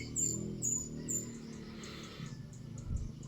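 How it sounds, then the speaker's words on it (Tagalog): Small birds chirp and sing in repeated short high calls near the start, over a low rumbling outdoor background on a cold sunny morning, with a chicken nearby. "Nag-iawitan ang mga ibon."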